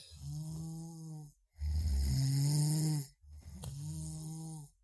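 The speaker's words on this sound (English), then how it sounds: "The only thing you notice for the rest of the evening is the snoring of the kobolds below you." Sleeping kobolds inside an old fortress snore in three long, heavy, rasping breaths separated by short silences, close and fairly quiet.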